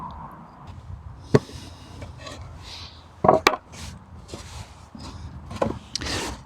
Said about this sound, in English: So the next thing I need to do is dismantle this large planter so that we can easily get the root ball out of the pot.